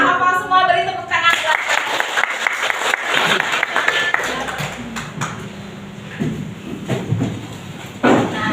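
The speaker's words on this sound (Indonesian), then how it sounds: "beri tepuk tangan" A class of schoolchildren claps their hands after singing a patriotic song, quick uneven claps bursting out over a short tone and continuing in ragged waves, with voices and room noise mixed in.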